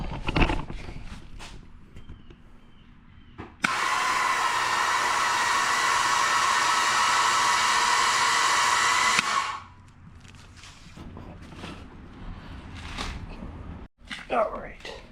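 An electric winch mounted in a garage slowly hauls up a load, a loud steady motor whine lasting about six seconds between quieter stretches of shuffling and someone talking.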